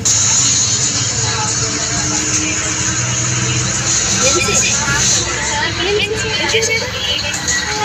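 Loud, steady interior noise aboard a bus travelling through Khammam district, with constant engine rumble and road hiss under a hubbub of passenger chatter throughout.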